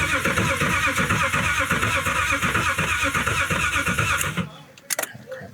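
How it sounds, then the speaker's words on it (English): Boosted BMW E36 engine cranking over for its first start, a loud steady chugging rhythm of the starter turning it for over four seconds, then cutting off into a few brief clunks and quiet. "we about to crank this thing right now, build up some oil pressure, and then we're gonna give it its first start"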